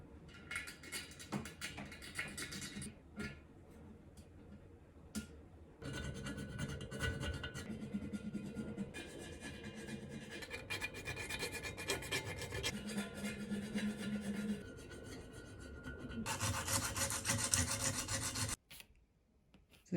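Steady rasping and scraping as burrs are filed off the cast halves of a CB Performance 2017cc engine case, with irregular strokes and short pauses between bursts of grinding, close and alone.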